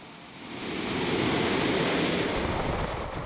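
Ocean waves break on New Zealand's Pacific coast. A broad, roaring wash swells up loud and close, then holds as a dense rush of surf with some wind noise.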